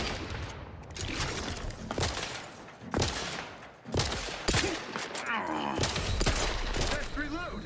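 Rapid bursts of gunfire with sharp cracks and booms in The Outer Worlds 2 shooter game, loud and dense across the whole stretch, with short gaps between volleys.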